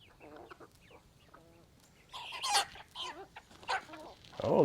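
Farm chickens cluck and squawk in a run, a mix of quiet clucks building into louder, sharper calls and squabbling near the end, fairly close with no talking.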